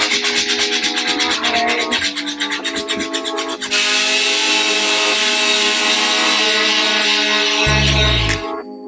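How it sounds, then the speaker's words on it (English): A wooden dresser drawer is sanded by hand with 80 grit sandpaper, close and loud: quick rhythmic back-and-forth rasping strokes at first, then a long steady scraping stroke, ending in a brief low scrape. "I took the 80 grit sandpaper, and that worked a little faster"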